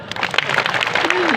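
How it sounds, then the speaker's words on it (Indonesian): An audience at an Islamic lecture breaks into brief, scattered applause, with a voice speaking and cheering over the clapping. "mana tepuk tangannya?"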